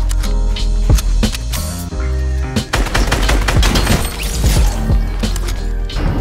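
Dense Fortnite gunfire, loud and close: rapid bursts and single cracks overlapping in a continuous barrage that keeps going without let-up, with sharp impact and crash noises mixed in.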